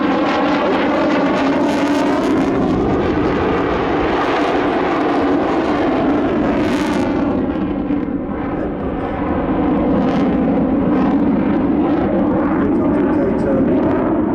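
Aerobatic airplane at an airshow flying a square loop, a loud, sustained engine roar with shifting pitch as it pulls through the manoeuvre, with commentary over the top.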